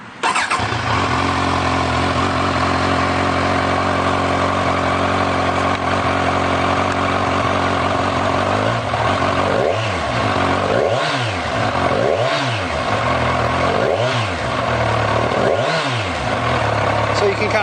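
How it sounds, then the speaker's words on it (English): A 2014 Kawasaki Z1000 ABS motorcycle is heard up close, its engine already running at a loud, steady idle, then revved in several short, even blips toward the end, with no talk. "let's push the button and we'll crank it up and take a look at that tachometer."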